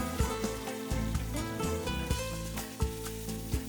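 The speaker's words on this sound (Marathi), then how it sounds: "ते चांगलं गरम झाले की त्याच्यामध्ये बारीक चिरलेला कांदा टाकायचा आहे" Finely chopped onion sizzling in hot oil with cloves, green cardamom and bay leaf for Maharashtrian chicken sukka, a dense close crackle with intermittent sharp pops and clinks from stirring.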